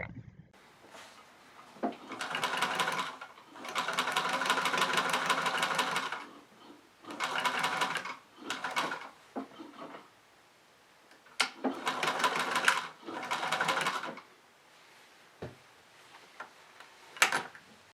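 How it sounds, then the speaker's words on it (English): A sewing machine top stitches the kick pleats of a 1950s style slim skirt, running in several bursts of steady whirring stitching separated by short pauses and small clicks, close and clear with no talk. "I then top stitched the kick pleats in place, stitching them to the side panel as indicated on the pattern."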